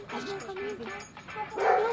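Dogs bark and yip in quick bursts at night on a residential street, fairly faint, mixed with hurried voices of people talking.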